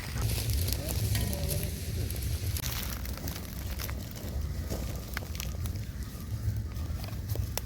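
Cleaned pearl spot fish (karimeen) rubbed with chili powder, turmeric and salt frying in oil, a loud, dense, continuous sizzle with sharp spitting pops throughout.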